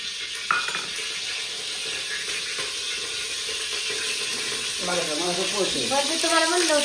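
Goat mutton sizzles and crackles in a hot pan in a home kitchen, a steady frying hiss running throughout, with people chatting over it toward the end.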